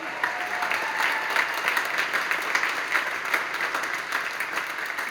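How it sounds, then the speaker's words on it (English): Audience at a high school spring concert applauds a pianist, a dense, steady wash of many hands clapping at moderate volume throughout, with no one speaking over it. "Can we give Dr. Schwartz a round of applause?"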